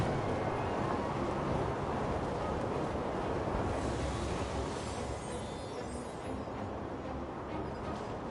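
A steady, broadband rush of wind fills the scene as a character rides a wind current in the video game Genshin Impact, holding a constant whooshing roar throughout with no voices.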